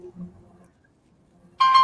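A telephone tone sounds abruptly after near silence, a sharp steady electronic beep that starts loud and holds to the end.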